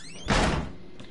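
A door slams shut in the horror video game Outlast, one loud, short burst of impact that dies away quickly.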